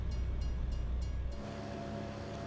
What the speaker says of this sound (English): Oh, gonna have to stop for the train to pass